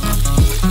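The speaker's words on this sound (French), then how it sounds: "Mettez la casserole sur la cuisinière, ajoutez de l'huile et faire frire le bœuf haché." Ground beef frying in oil in a saucepan on a stovetop, giving a steady, close sizzle that continues with no break for the whole moment.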